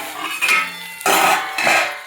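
A lid goes onto a cooking pan of frying capsicum with added water, giving a few loud metallic clanks and scrapes close by, with no talk over them.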